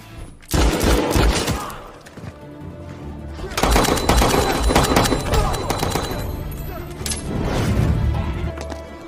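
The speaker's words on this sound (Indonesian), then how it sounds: "Disusul oleh Mike yang juga ikut serta dalam baku tembak saling serang" Film shootout with rapid bursts of automatic gunfire and single shots in three loud waves, crackling and echoing, with brief gaps between volleys.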